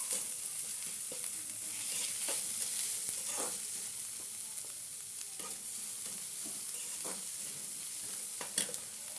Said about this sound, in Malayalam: മല്ലിച്ചപ്പ്, മുളക്, ഇഞ്ചി പേസ്റ്റ് നന്നായിട്ട് മിക്സ് ചെയ്യാം.